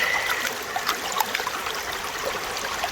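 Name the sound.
creek water flowing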